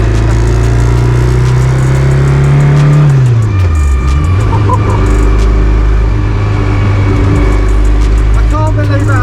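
A rare rally car engine roars loudly and close, its pitch climbing, then dropping sharply and settling into a heavy, throbbing idle, with a voice speaking faintly over the din.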